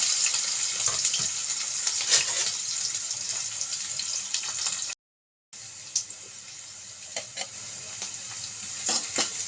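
Onions and green chillies frying in oil in a pan for a chicken and brinjal curry, a steady bright hiss of sizzling with occasional crackles and stirring clinks, briefly cut to silence midway.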